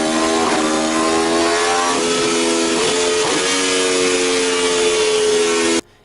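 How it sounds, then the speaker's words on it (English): An Aprilia RSV4 motorcycle engine with 217 horsepower holds a loud, steady high rev, its harmonic whine dipping briefly a few times before cutting off abruptly at the end, with no voices. "Let's get a sound check of what the RSV4 sounds like."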